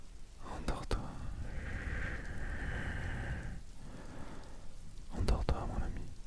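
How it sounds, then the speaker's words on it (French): Steady soft rain hiss fills a quiet sleep ambience with a few sharp crackles and a low rumble, while a voice whispers gently over it. "bercé par ces sons de pluie, ces sons d'orage"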